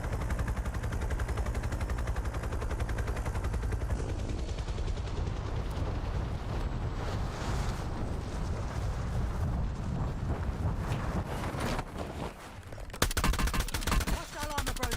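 Rapid gunfire cracks and explosive bursts hammer away in a Call of Duty Black Ops battle royale match. The shots come in long, dense volleys that swell loud and then thin out, with a harsh burst near the end.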